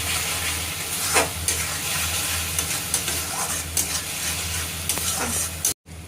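Fish curry masala with salt and turmeric frying in oil, a dense steady sizzle up close with intermittent spoon scrapes, no voices, cut off sharply near the end.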